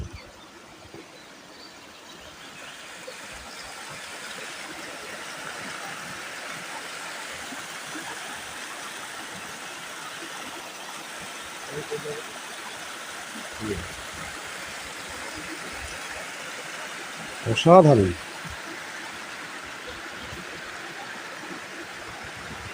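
A river flows through dense Kuldiha jungle in Odisha, making a steady soft rush of water throughout, with a few faint knocks and a brief louder burst near the end and a single spoken word.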